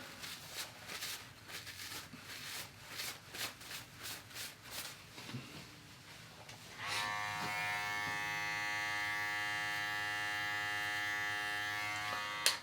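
Electric hair clippers cutting a drop fade before starter locks: after a stretch of soft rhythmic handling noises, a steady, close electric buzz starts and runs unbroken to the end.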